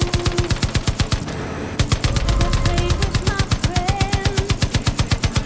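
Mounted machine guns on a vehicle in Far Cry 5 hammer out rapid, steady bursts at close range, briefly pausing during a rumbling impact before resuming the loud, rhythmic stream of shots.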